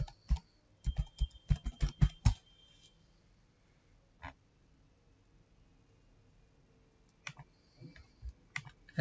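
Bursts of clicking on a computer keyboard, quick close keystrokes in two flurries separated by a quiet pause with a single isolated tap, faint and dry with no talk.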